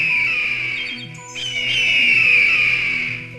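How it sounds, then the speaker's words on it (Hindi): Two hawks in a cartoon story cry out loudly, a sustained shrill, piercing call that dips briefly in the middle and then swells again, with no talking over it. "उन दोनों बाजों की आवाजें भी काफी तेज थीं"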